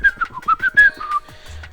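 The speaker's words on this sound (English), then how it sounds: "Whistles." A person whistling a short, wavering tune of several quick rising and falling notes, clear and close, with brief gaps between phrases and no talk.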